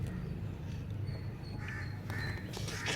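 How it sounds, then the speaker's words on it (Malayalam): A crow perched outside a home kitchen caws a few times at moderate distance, the harsh calls rising over a constant low background rumble, with no one speaking. "ആ കാക്ക എന്തിനാ അവിടെ ഇരിക്കണേ?"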